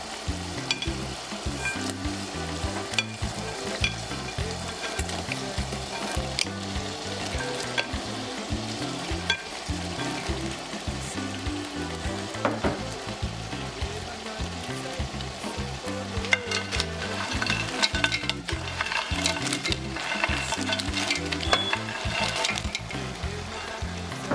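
Green beans, carrots and plantains fry in a pan, a dense continuous sizzle with constant stirring and scraping, close and steady for a long stretch.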